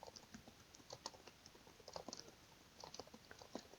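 Close, quiet typing on a computer keyboard, an irregular patter of light key clicks with brief pauses between bursts, heard alone without speech.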